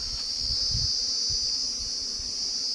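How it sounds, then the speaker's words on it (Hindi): Honey bees swarm over a full beehive near a pond in Lailunga, Chhattisgarh, making a dense, continuous buzzing hum. Louder wingbeat passes flicker close by throughout, and no one speaks. "छत्ता मधुमक्खी का पूरा"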